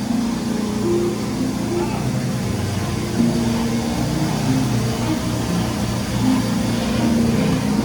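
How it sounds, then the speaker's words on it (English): Drive motor of a Ryko R7B rollover car wash in Miami, a steady low hum with faint whining tones under broadband machine noise, continuous and fairly close. "Man, listen to that drive motor."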